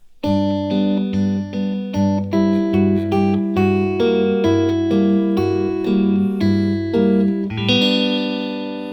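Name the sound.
Stratocaster guitar playing major to minor major 7 add 6 chords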